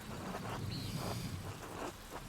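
Steady rain in Pentiment falls as a soft, even hiss with light patter throughout. It stays quiet and unbroken, with no voices over it.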